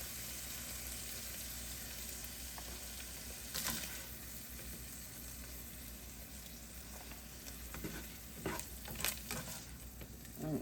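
Sausage frying in a pan, with a faint steady sizzle and occasional scraping clinks as it is scooped out.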